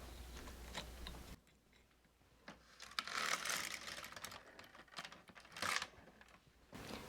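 Domestic knitting machine carriage run across one row at increased tension for a picot hem with eyelets, giving faint clicking and rattling that swells into a louder sliding clatter with a brief pause mid-pass.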